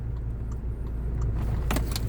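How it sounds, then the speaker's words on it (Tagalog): Cars pass along a road in a steady wash of traffic noise, with a brief metallic jingle partway through and no speech. "Ito mga sasakyan."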